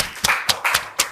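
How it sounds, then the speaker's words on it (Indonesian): A small classroom group claps for fellow students: a handful of sharp, separate hand claps in an irregular rhythm, fairly loud and close, with quiet room tone between them and no speech. "berikan tepuk tangan untuk kelompok Ersa."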